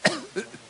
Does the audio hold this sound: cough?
yes